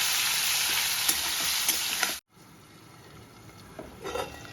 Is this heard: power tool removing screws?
no